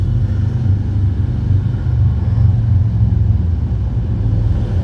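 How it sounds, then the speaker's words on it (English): Motorcycles passing by with a deep, continuous engine roar and rumble, loud and steady throughout without any talk. "those bikes going across right now, giving me that thunder and that roar"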